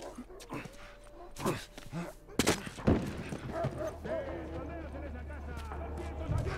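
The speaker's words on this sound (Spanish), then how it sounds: "Estoy escuchando perros, tío." Dogs bark and yelp in The Last of Us Remastered gameplay, a few sharp outbursts amid gunfire-like bangs and game noise, with someone talking over them.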